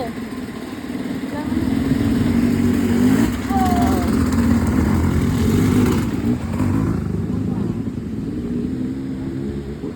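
Motorcycles on a road near a mountain trail in Calawis, Antipolo, their engines droning steadily nearby for several seconds, with faint voices and outdoor background noise mixed in.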